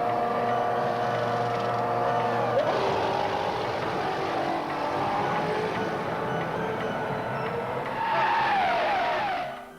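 2003 Ferrari Formula One cars at the Mugello circuit let out a sustained high-pitched engine scream that rises and falls as they pass, loud and continuous with a sharp surge near the end before fading.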